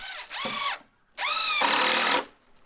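Power drill driving screws into wood while building an outdoor shower in Alaska: two close bursts of whining motor, a short one then a longer one, each winding up and slowing down with clear pauses between.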